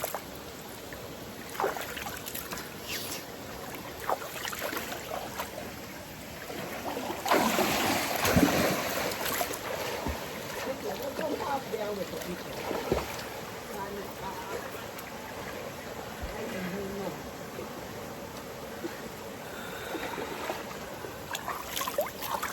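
River water flows and trickles on an off-grid riverside in Portland, Jamaica, a close, steady wash with occasional splashes, and people talk over it now and then.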